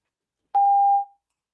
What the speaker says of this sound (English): Please speak after the beep.